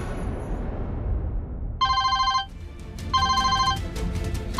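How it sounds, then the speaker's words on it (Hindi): A phone rings in two electronic bursts separated by a pause, over a low steady background hum. "माँ का फोन।"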